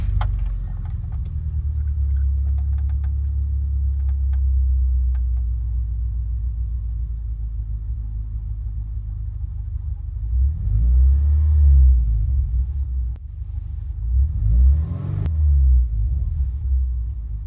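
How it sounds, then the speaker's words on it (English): A Subaru Impreza 2.5RS GC8 with a modified exhaust sits in a low, steady idle rumble that swells twice with brief blips of throttle, close by and with no talking. "I'm going to start the car up."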